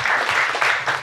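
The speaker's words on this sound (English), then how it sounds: "So big round of applause for them," An audience at a Sheila E. event on a cruise claps in a dense, steady burst of applause with a few louder swells, filling the short moment without any voices.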